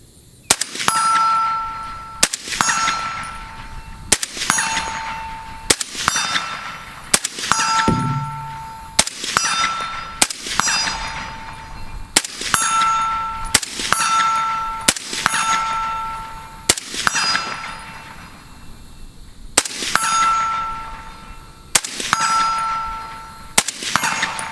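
Suppressed 18-inch AR-10 rifle in .308 fired outdoors, sharp reports with ringing metallic clangs repeating at a steady pace of about one to two seconds, roughly a dozen shots, no talking.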